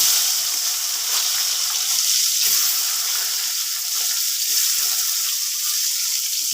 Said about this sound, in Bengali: তেল গরম হয়ে গেছে, আমি পেঁয়াজটা দিয়ে দিচ্ছি।